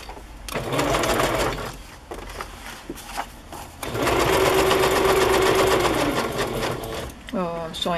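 Sewing machine stitching through a paper journal page for a Christmas fairy ornament, running in two whirring bursts with a pause between, close and loud, with someone talking around them.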